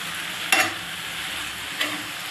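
Vegetable curry with garlic and green chilli is stirred in a frying pan, a continuous close sizzle with two brief scraping strokes of the spoon, no talking.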